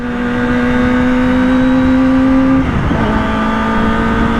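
A Kawasaki Ninja ZX-25R motorcycle engine drones steadily while riding on a foggy morning road, loud and close. Its pitch holds even, dips briefly in a shift near the end, then settles again.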